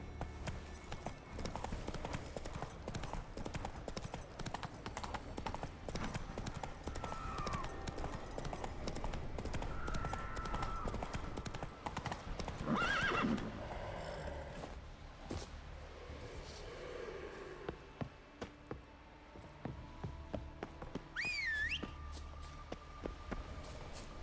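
A horse trotting in The Witcher 3, its hooves clip-clopping in a steady rhythm close by for the whole stretch, with a brief whinny partway through and a faint voice now and then.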